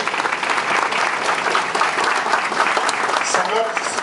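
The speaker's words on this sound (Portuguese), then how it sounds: "a quem eu peço uma salva de palmas" Audience at a FLICT 2019 lecture giving a round of applause for family members being honored, a full, steady clapping from many people, fairly loud, with a voice briefly audible near the end.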